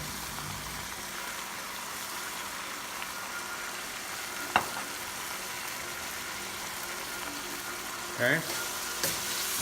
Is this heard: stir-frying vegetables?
yes